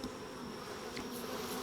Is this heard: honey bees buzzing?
yes